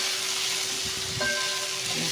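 Peppers fry in a pan with a soft steady sizzle, and a brief scrape of stirring comes partway through, quiet and close with no talking.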